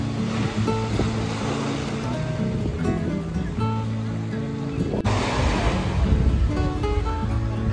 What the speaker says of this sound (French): Je vous laisse profiter un petit peu du bruit des vagues.